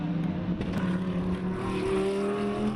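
A race car on a circuit during a motorsport festival round, its engine giving a sustained droning note that shifts in pitch as it runs, moderately loud, with no speech.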